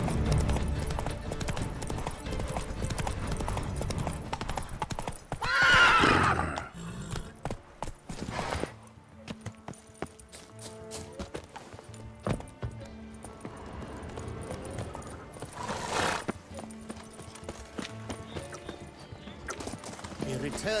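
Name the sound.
horse Roach galloping and neighing, from video game The Witcher 3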